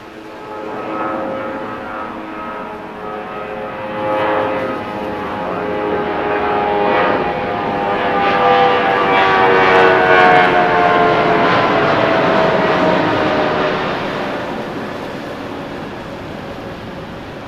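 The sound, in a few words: airplane taking off from runway 6 right at LAX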